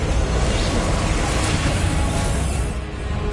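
A fire spell cast in Hogwarts Legacy, a loud, sustained roaring burst of flame that holds steady for a few seconds before easing slightly near the end.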